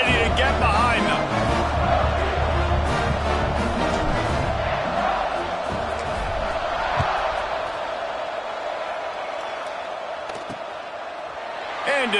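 A college football stadium crowd at a Coastal Carolina vs North Carolina game roars steadily before a kickoff, a dense, loud, continuous wash of cheering with a commentator's voice over it.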